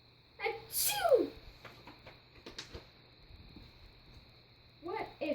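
A child's loud, close sneeze bursts out near the one-second mark in a storytime scene about pigs causing sneezing, with a shorter second sneeze-like voiced burst at the end and quieter breathy sounds between.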